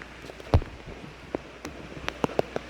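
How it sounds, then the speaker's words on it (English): Rain falling on Coiba Island, Panama, heard as sparse, scattered drops and drips landing on a surface, quiet overall with a few sharper splashes spread through a soft background. "with rain and no sun"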